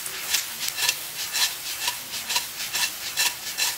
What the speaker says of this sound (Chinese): 然后我们可以转一个小火，然后继续翻炒啊